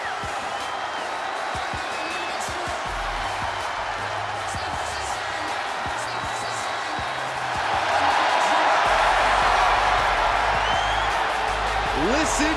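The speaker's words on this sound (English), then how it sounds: "Listen to this ovation. The WWE Universe loves cheering on the EST." Crowd ovation for Bianca Belair's SummerSlam entrance in the video game WWE 2K23, a steady arena roar that swells louder about two-thirds through, with entrance music beneath and commentators talking over it.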